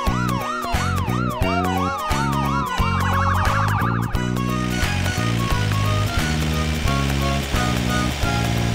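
A police car siren wails in fast repeated rising and falling sweeps for about four seconds over a steady, rhythmic musical beat that continues afterward, with no talk.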